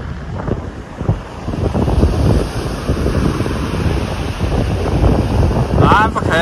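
Wind gusting across a microphone on the Tuscan coast, with waves surging beneath as a continuous loud rushing roar, and a brief voice near the end.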